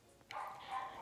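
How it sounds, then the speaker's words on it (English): A dog gives one short bark or yip partway through, slightly distant and moderately loud indoors, with no talk over it. "You can hear my dog barking."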